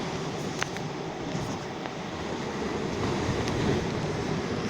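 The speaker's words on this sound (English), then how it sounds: "hopefully you can hear me over the waves, which are pretty awe-inspiring and pretty noisy." Ocean waves crash on a shore in a loud, continuous roar, surf rumble and wind noise swelling slightly toward the end, close and steady with no voices.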